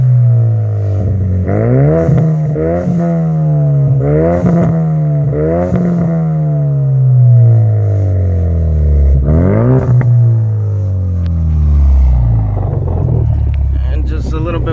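A Ford EcoBoost Mustang with an MBRP catted downpipe and full race catback exhaust, recorded close at the tailpipe, drones loudly at idle and is repeatedly blipped, each rev rising sharply and falling back, with pops and crackles on the overrun.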